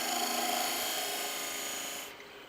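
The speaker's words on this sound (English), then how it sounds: "I'm just going to bring my bowl gouge in" A bowl gouge cutting into a spinning wooden lidded box on a lathe gives a steady, loud rasping hiss that continues for about two seconds, then drops away as the tool lifts off the wood.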